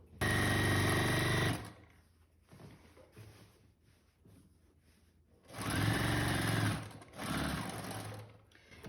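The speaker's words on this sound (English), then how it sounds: "I just hold my piece taut the whole entire time while I am sewing it." A sewing machine stitches quilt pieces in two loud, rapid whirring bursts, one at the start and a longer one near the end, separated by a quieter pause with soft handling sounds.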